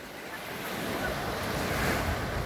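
Sea waves breaking on a shoreline during surf casting fishing, a steady loud wash of surf mixed with wind buffeting the microphone, rising slightly over a few seconds with no voices.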